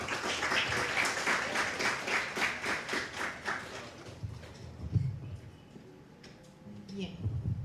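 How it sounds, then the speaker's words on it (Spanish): Applause from an audience at an astronomy and agriculture conference rings out for about four seconds, then fades into scattered handling noises and murmurs as people talk quietly. "Fuerte aplauso."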